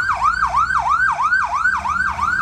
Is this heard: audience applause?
no